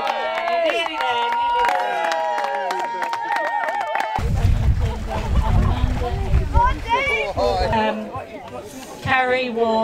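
Spectators at a bog snorkelling competition in Wales cheer and shout encouragement to a competitor, a loud crowd roar swelling midway with whoops and close voices talking and calling over it.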